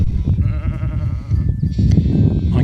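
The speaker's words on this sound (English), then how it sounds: "I have an audience of lambs and sheep tonight." Sheep and lambs bleat near a hillside campsite at Edenhope Hill. Loud, close, wavering bleats overlap one another continuously with no talking.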